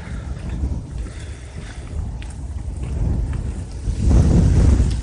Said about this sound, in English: there's much more wind